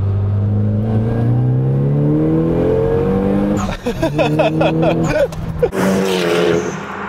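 A Nissan Silvia S15 with an RSR exhaust and naturally aspirated engine setup idles loudly up close, then blips through several sharp revs that rise and crackle before settling back to idle, with a voice briefly heard.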